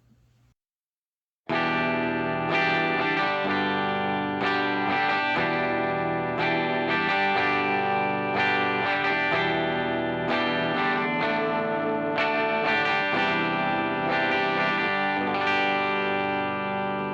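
After a brief quiet moment, a distorted electric guitar, a Les Paul-style guitar, plays a sustained, heavily effected passage of ringing chords and notes, loud and continuous.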